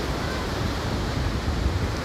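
Ocean waves on a beach at Ogmore in South Wales, a steady broad wash of surf mixed with wind rumble against the microphone, close and continuous.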